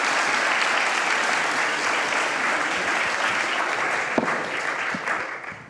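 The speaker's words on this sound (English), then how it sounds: "One more round of applause for our ARC teams." An audience at a university research pitch event applauds the research teams, with dense, steady clapping that fills the room and fades slightly at the end.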